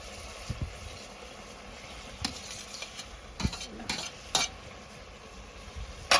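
Fried vegetables and turnips, prepared chilli style with capsicum, are stirred together in a pan, with a low sizzle under scattered utensil scrapes and clinks against the pan.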